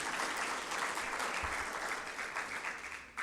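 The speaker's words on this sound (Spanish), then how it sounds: "Denle un aplauso al Señor por esa bendición que tenemos." A church congregation at a Spanish-language service claps for the Lord, a soft, steady patter of many hands with a brief thump near the end.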